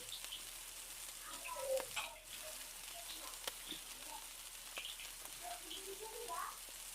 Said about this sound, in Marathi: आता आपण दोन्ही बाजून असं तळून घेऊया